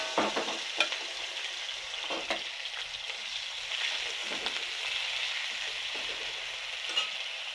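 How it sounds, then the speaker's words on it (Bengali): Potatoes fry in hot oil in a wok with a soft, continuous sizzle, broken by scraping clicks of stirring throughout, fairly quiet and close. "এখন আমি আলুটা ভেজে নেব।"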